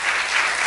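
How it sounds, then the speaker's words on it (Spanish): A church congregation bursts into loud, dense clapping, a brief unbroken wash of applause. "Dele un aplauso fuerte a Dios."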